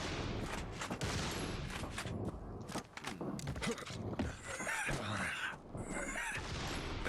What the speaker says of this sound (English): I shot the guy in front of me.